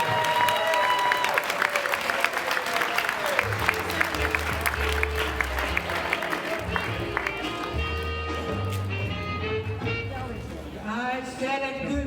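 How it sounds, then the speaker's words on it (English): Steady crowd applause greets comedian Joey Sims as she takes the stage, a dense wash of clapping running the whole stretch with music playing underneath. "Now let's give a big round of applause for our very own funny lady,"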